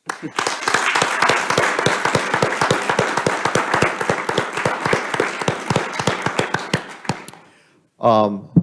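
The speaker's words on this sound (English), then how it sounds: "I'd recommend we give a round of applause for the folks who are leaving us here." Applause from a village council meeting audience, crisp individual claps merging into a lively, steady round that fades out near the end, followed by a brief voice speaking.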